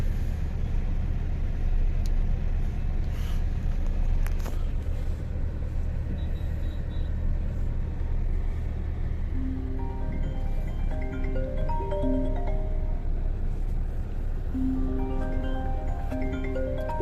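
Heavy road traffic jammed near the main gate of the Kumbh Mela, heard from inside a car with the windows shut: a constant low engine rumble, with scattered tonal vehicle horns honking repeatedly in the second half.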